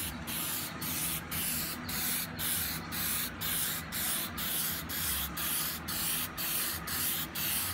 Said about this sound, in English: I spray this light coat.